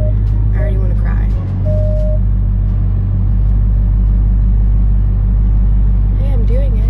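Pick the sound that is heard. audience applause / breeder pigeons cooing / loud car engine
loud car engine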